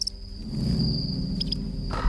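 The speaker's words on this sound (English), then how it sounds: "Glowing lines of animated sound waves appear as a cricket chirps." A cricket chirps steadily in a dim outdoor soundscape, its thin, high trill running continuously through the clip over a low, rumbling background, with a brief brighter burst near the end.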